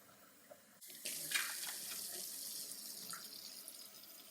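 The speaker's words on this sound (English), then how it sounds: "Fill this jar up with hot water." Hot water runs from a tap into a jar during home yogurt making, a steady close splash that starts abruptly and keeps flowing alone.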